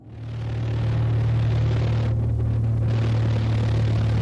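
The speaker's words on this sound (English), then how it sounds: "this small plane's putting me on edge" A small plane's engine drones loud and steady in found footage, a constant low rumbling hum that builds in the first second and then holds without talk.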